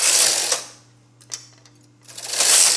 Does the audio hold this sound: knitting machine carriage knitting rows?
yes